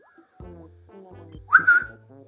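A video game character whistles a short rising tune over low, pulsing game sounds. The whistle is brief, close and loud.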